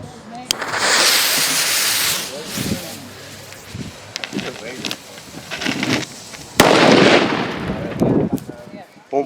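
Old-style firecrackers and fireworks go off outdoors in daylight around New Year, loud crackling bursts and sharp bangs in dense clusters, with voices nearby between the blasts.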